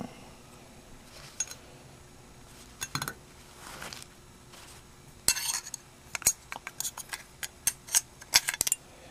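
Metal parts clink and click as the lid goes onto a Chris Reeve Small Sebenza knife, first with a few scattered taps and then a quick run of sharp, close metallic ticks.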